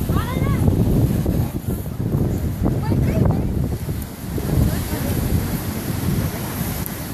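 Heavy sea surf and strong gusting wind at a clifftop, a continuous loud roar with wind buffeting the microphone throughout; a person speaks over it.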